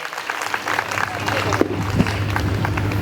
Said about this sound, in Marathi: जोरदार टाळ्या वाजू द्या.